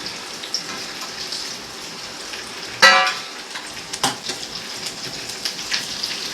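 Dried shrimp fry in a pan with curry leaves and dried chilies, giving a steady close sizzle. A sharp crackling burst and a few smaller pops rise from the hiss, with no speech.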